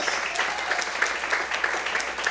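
Congregation clapping during a Portuguese-language church service, a steady, moderately distant patter of many hands continuing alone for a couple of seconds.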